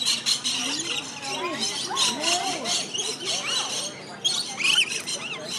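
Pet birds squawking and chirping up close in a rapid, irregular string of harsh calls over several seconds.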